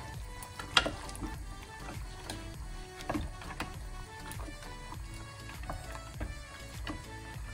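White beans being stirred in a cooking pot for a Moroccan-style dish give soft, irregular scrapes and clinks against the pot over a faint sizzle, fairly quiet and close, with no talk.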